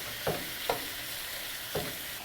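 Beef for teriyaki stir fry fries in a pan with a steady, close sizzle, broken by three brief stirring scrapes spaced unevenly.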